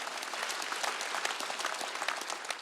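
Congregation applause at a Korean church's Wednesday worship service: a sustained, even crackle of many people clapping together for a couple of seconds, heard at a middling distance with no speech over it.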